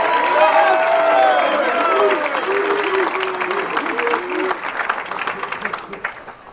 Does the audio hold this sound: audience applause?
yes